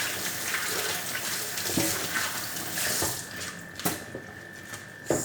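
Tap water running over salad vegetables such as lettuce and celery in a kitchen sink, a steady splashing gush with a few louder spatters as the leaves are handled.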